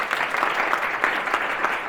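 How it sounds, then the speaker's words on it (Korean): A room of attendees at a presentation and reporting skills workshop claps loudly and steadily in a sustained round of applause welcoming the instructor, with no talk over it. "큰 박수 받고 시작하겠습니다"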